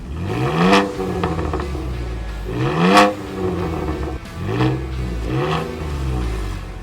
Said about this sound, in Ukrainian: ми зробили тут дуже класну вихлопну систему